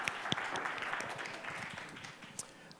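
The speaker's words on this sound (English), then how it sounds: "let's go ahead and give our panelists a very warm round of applause" A conference audience at a blockchain industry panel claps briefly for the panelists, a soft, thin patter of scattered hands that tapers off within a few seconds.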